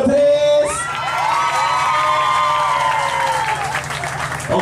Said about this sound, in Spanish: aplauso para el número 3